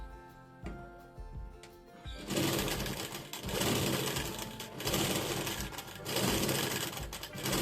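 Sewing machine stitching blouse fabric for a princess-cut blouse, a quiet start with a few taps, then bursts of rapid, rhythmic needle clatter that run in several surges, fairly close and alone.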